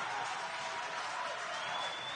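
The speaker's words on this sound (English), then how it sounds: "Purchase crowd getting riled up." Crowd at a college basketball quarterfinal, Purchase versus Mount St Mary, roaring after a missed free throw: a steady, dense wash of cheering and applause that holds for about two seconds, fairly distant and even.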